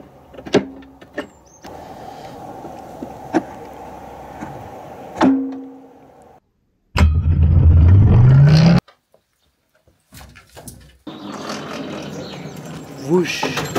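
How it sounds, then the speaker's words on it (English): A 12-volt car electric starter motor drives a giant turntable, whirring loudly in a rising burst of about two seconds between quieter stretches of clicks, handling noise and background talk. "a 12-volt electric starter motor for my car is powering that thing"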